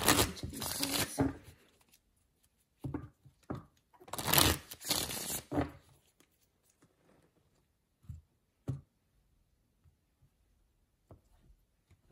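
Tarot cards shuffled by hand in a quiet room, two soft riffling bursts separated by pauses, then a few faint taps and rustles as the deck settles.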